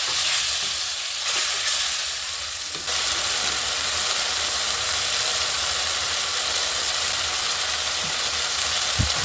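Spice masala with salt sizzles steadily in hot oil for a kohlrabi curry being cooked to a meat-like flavor: a loud, continuous frying hiss with no voices, dipping briefly near the start before settling into an even sizzle.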